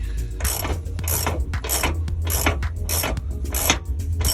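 Bolts are worked into rusty trailer hitch mounting holes, making rhythmic metallic grinding and ratcheting clicks that repeat roughly every half second, close and steady with no talking.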